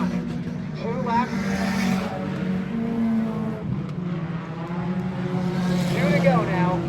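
Small race cars lapping a short track at high RPM during a Little League racing night, a continuous buzzing engine drone that rises and falls as cars pass, heard under an announcer's voice.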